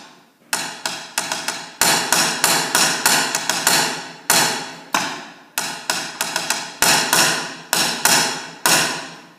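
A solo snare drum plays a fast rhythm mixing loud accented strokes with softer unaccented notes. The hits are crisp and close, grouped in repeating phrases with no talk over them.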